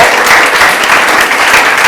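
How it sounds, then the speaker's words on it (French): Loud, steady applause from an audience fills the whole stretch, a dense wash of many hands clapping with no pause. "Je vous demande, cher public, de l'applaudir très très très fort."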